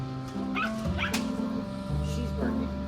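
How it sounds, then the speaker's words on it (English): A dog barks and yips at a moving pet camera in an RV, several short sharp barks and whimpers heard close by, partly under a person talking. "she's barking at the camera that's moving"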